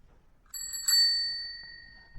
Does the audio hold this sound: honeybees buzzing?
no